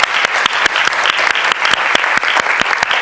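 A policy forum audience applauds panelists and chairs, loud close clapping with sharp individual claps standing out over the general wash.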